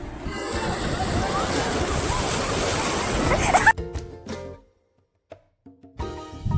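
Sea waves wash onto Puri beach in a loud, continuous surf roar with wind, ending abruptly partway through and leaving only faint sounds.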